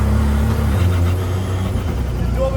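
A loud off-road buggy drives at a ski resort, its engine a steady, close, rumbling roar with broadband road and exhaust noise that keeps going throughout with no pauses.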